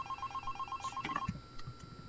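Telephone ringing in the horror game Five Nights at Candy's, a steady repeating electronic ring pulsing for about a second before cutting off, followed by faint clicks and low thumps.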